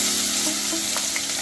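Mustard seeds and cumin tempering in hot oil for dosa sambal, a loud, dense crackling sizzle close by with a few faint pops, steady throughout the brief moment.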